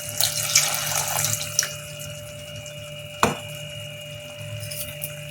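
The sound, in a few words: water being poured into paneer curry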